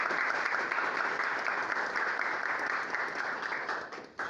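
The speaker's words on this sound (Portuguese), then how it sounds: "E palmas para o nosso convidado" An audience on a religious-festival programme applauds a guest, producing a continuous, even roar of clapping hands that stays full and steady and then dips briefly at the close, with no voices over it.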